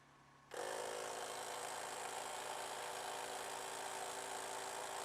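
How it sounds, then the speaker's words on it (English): Jeep engine starting up and idling, a sudden loud onset followed by a steady, broadband hum that holds close and unchanging for several seconds. "I'm gonna start the engine just so I don't drain my battery at the same time"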